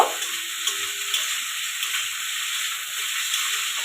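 Potatoes fry in oil with a soft, even sizzle, fairly quiet and continuous, with a few light ticks from the pan.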